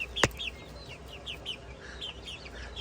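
Polish chickens cluck and chirp in a series of short, bright calls, with one sharp click or knock near the start, moderately close, with no talking.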